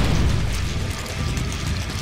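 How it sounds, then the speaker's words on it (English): Pyrotechnic explosions go off in a wrestling arena during a steel cage main event, a dense continuous roar of booms and crackling bursts, loud and close, with no talk. "And there's the explosions! The ring is lighting up with rage!"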